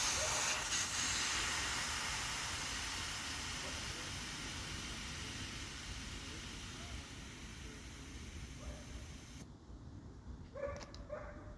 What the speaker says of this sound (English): I'm gonna use the spiky end and let some of the air out of here